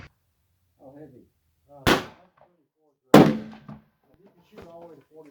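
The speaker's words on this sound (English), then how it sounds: "Second shot" A 6.5 PRC rifle loaded with H4831 SC powder fires two sharp, loud reports about a second apart, each with a brief decaying tail. Voices talk quietly before, between and after the shots.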